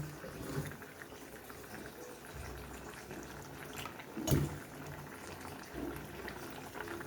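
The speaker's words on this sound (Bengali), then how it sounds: "এবারে কিছুক্ষণ নেড়ে চেড়ে ফুটিয়ে নেব বেশিক্ষণ ফোটাবো না" Vegetable shukto curry with mustard simmering in a pot, a steady soft bubbling with a single louder pop partway through, close and alone without any talking.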